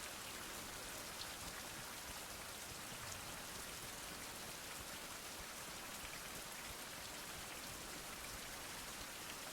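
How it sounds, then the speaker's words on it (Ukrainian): Steady, even rainfall in a survival video game, hissing continuously, dense patter with no other sounds. "І дощ знову пішов."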